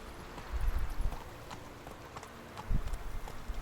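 A horse's hooves clip-clop in The Witcher 3, a few uneven thudding steps at moderate distance, faint and mixed with low game ambience.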